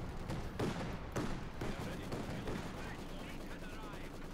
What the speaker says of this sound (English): Pioneers being hammered by the Maxim machine gun and routed